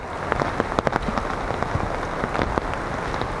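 Heavy pouring rain at Mary Vine Falls on Vancouver Island, Canada, a dense, steady hiss of drops drumming on surfaces nearby, with scattered sharper patters and no voices.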